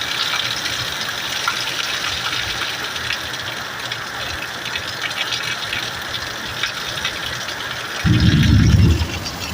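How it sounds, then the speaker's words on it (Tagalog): Continuous rushing rainwater flows steadily at moderate loudness during a sudden downpour, joined near the end by a brief low rumbling burst. "pakinggan nyo mo lang ang agos ng tubig."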